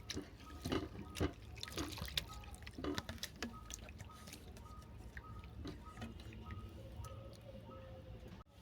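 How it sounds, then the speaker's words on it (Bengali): Ridge gourd pieces are rinsed by hand in a bowl of water that keeps being changed, giving close, wet sloshing and squishing with scattered drips throughout. "বারবার জল পাল্টে পাল্টে আমি ঝিঙেটাকে ধুয়ে নিচ্ছি।"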